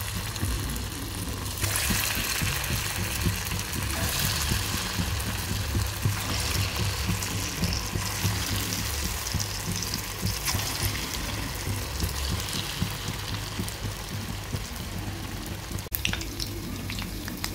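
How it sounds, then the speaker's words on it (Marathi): Moong dal vadas, spiced with cumin and garam masala, deep-fry in hot oil over a low flame, giving a steady, dense sizzle and bubbling that holds loud and close throughout, with no talking. "याला दोन्ही साइडनी तळून घेऊयात।"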